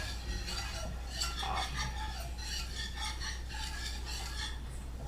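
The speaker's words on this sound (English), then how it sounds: "That's why I'm using a whisk." A whisk beats butter and flour into a smooth paste for an Alfredo sauce, making fast rhythmic metallic scrapes and light clinks against the pan in bursts over a low steady hum, close and fairly quiet, with no talking.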